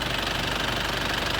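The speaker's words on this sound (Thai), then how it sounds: "อันนี้เสียงเครื่องยังเพาะอยู่นะครับ" A 1995 Isuzu TFR diesel pickup engine idling with a steady rapid knocking clatter, heard up close with the hood open and continuous for a moment.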